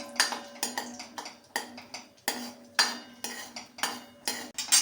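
Cashews and almonds roast in hot ghee in a pan. A utensil clinks and scrapes against the metal in a steady rhythm of sharp strokes about every half second. The sizzle is faint and no one talks.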